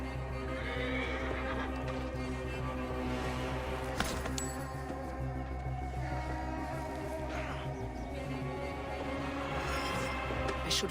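Horse in the video game Assassin's Creed Origins, whinnying over steady clip-clopping hooves and low ambient game sound, with a sharp transient around the middle.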